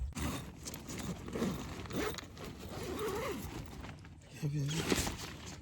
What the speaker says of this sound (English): You have to zip up your door so loud